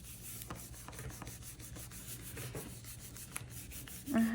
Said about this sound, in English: and burnish it down.